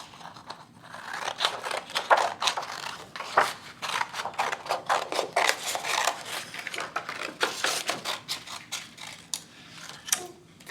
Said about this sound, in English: Now we're gonna cut out a circle.